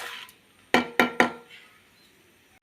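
Fried ingredients for a chutney being moved from a pan onto a plate, heard as three sharp clinks of a spoon or spatula against the dishware, close and evenly spaced, with short ringing tails.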